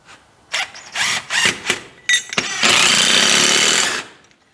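Power drill driving a screw during work on a 1940 Chevy, several short whirring bursts followed by one long, loud, sustained spin that stops abruptly, close up with no talk.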